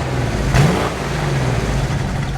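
A 1974 Jeep CJ5 engine runs nearby at a steady idle, a low rumbling drone with one brief rev early on, heard alone without talk.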